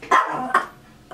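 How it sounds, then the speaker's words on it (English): A dog barks indoors inside a room, two short sharp barks close by with a brief pause between them, followed by quiet. "I had to let my dog in my room."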